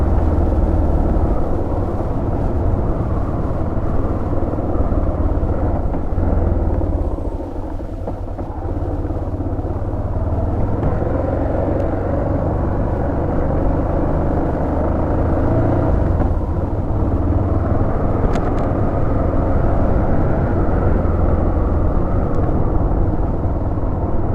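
A motorcycle engine drones steadily while riding through the countryside of northern France, either a Buell XB12X or a Yamaha 600 XT, with a constant low rumble and wind that dips slightly midway.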